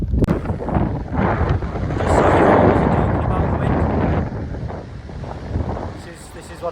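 Strong wind roars steadily across the microphone in the Australian outdoors, a loud rushing buffet that swells and eases, with a voice partly buried beneath it.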